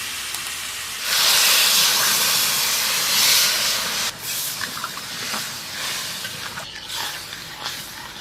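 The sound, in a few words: water poured into sizzling chicken curry pan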